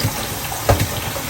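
Tap water running steadily into a container with a drainage hole while ackee is washed, a continuous close splashing flow with a brief louder splash midway.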